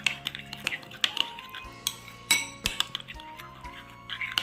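A spoon stirs a curd mixture in a bowl for an Onam ginger-curd dish, giving a run of light, irregular clinks and scrapes against the bowl, close and fairly quiet, with no voices.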